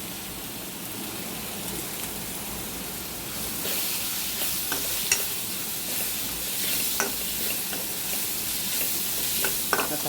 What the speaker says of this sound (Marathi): आता हा आपला आलूचा मसाला चांगला तळून द्यायचा